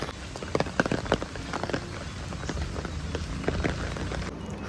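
Rain falls outdoors while someone walks through it. A dense, steady patter of drops sounds close by, with a few sharper splashes and taps near the start.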